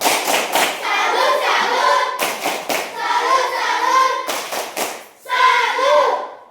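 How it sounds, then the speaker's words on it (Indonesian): A school class performs a rhythmic patterned clap together, with loud close sharp bursts of unison clapping separated by short pauses, and children's voices chanting along between the claps. "Mari kita tepuk salut dulu untuk kelompok 1."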